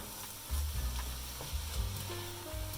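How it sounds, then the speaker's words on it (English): Bolognese ingredients stir fry in coconut oil in a pan, a close, continuous sizzle with occasional scraping and stirring clatter. "we'll just stir fry for a little bit"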